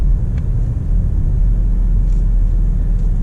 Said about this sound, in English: it upshifted for us, so even though I put it in manual mode, it upshifted since I didn't do anything